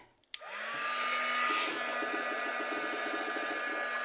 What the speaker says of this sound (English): I just have an embossing gun, so I'm going to quickly dry that.